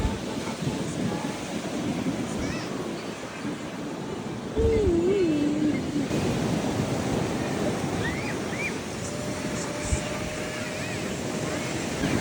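Sea waves wash steadily onto a campsite beach at Rustika campsite at sunrise, a constant broad rushing surf with some wind. A thin whistling tone rises briefly over it midway.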